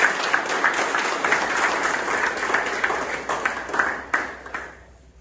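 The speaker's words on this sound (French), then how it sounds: "Il faut applaudir le modèle aussi." A crowd at a municipal ceremony in Miragoâne applauds with steady, dense clapping that thins out and fades near the end.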